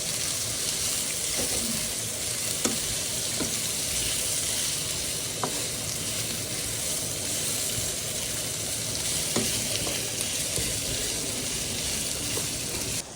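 A large onion, about tennis-ball size, frying in a pan in a bachelor's kitchen in Canada, making a loud, dense, unbroken sizzle with a few faint clicks scattered through it and no voices over it.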